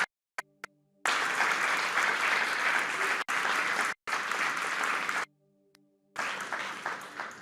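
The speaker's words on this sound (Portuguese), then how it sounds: "dá uma salva de palmas para o Senhor." A church congregation breaks into sustained applause, loud and dense, clapping in several long stretches separated by brief silent gaps.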